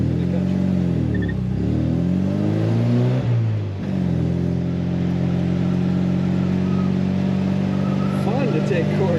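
1972 MG MGB convertible engine pulling hard in first gear, a steady close drone that dips, then climbs and holds, with a voice talking over it.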